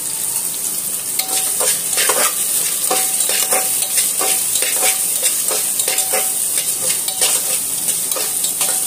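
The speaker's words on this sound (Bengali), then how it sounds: "সবজিখিনি অকণমান ভাজা যাব লাগিব" Mixed vegetables for veg pulao sizzle steadily in a hot pan while a spoon stirs them in repeated scraping strokes, close and continuous with no talking.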